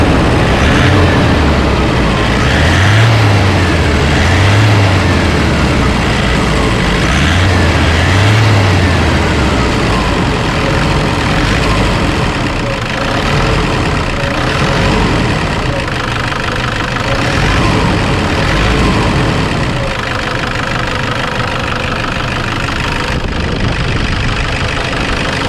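Toyota Innova engine idling after a knocking repair, a steady, loud mid-to-low running hum that holds for the whole stretch with a few faint bumps near the start and no talking.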